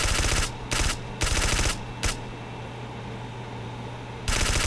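Automatic gunfire in a zombie shooting video game, several rapid bursts of machine-gun fire separated by short pauses, loud and dense over a steady game background.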